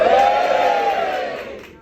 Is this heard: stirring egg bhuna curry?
no